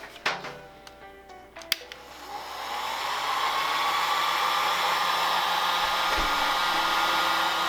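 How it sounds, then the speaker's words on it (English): A few small clicks and knocks come first, then a heat gun switches on and blows a steady, loud whooshing roar while it heats a sticker on a videocassette box. "we're going to take the heat gun and we'll start with the one on the side"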